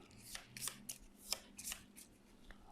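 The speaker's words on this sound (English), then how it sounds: "So give these a shuffle." Cards for the X-Men Marvel United board game are shuffled by hand, producing repeated crisp riffling bursts in a quick irregular rhythm, close and fairly quiet with no talking.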